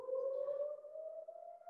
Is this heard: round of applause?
no